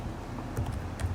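A computer keyboard gives a couple of quiet clicks, including the Enter key being pressed, heard close up over a faint background hum.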